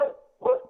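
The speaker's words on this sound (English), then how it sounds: "Oh, that's my dog." A dog barks twice close by, each short bark sharp and voiced, with a brief pause between them and no other sound around them.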